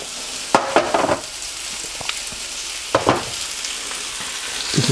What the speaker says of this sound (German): Nun kommen die Zwiebeln rein.